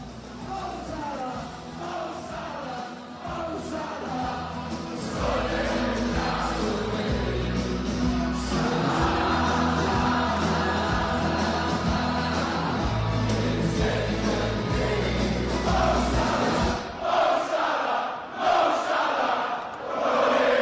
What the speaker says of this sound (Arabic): ولما نسمع الجماهير بيقولوا ايه لصلاح